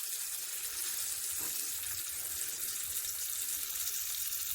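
Small fish fry in hot oil with a steady, even sizzle that holds at an unchanging level throughout, close and continuous with no voices.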